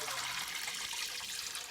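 Hot water warmed on a narrowboat stove pours in a continuous splashing stream, close and steady for a short moment, with no talking.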